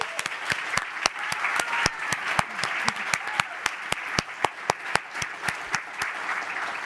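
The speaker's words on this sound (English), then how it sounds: "let's give her one more round of applause really quickly." Audience applause at a forum's morning session, a room full of people clapping steadily with sharp individual claps standing out over about seven seconds, moderately loud and without talk.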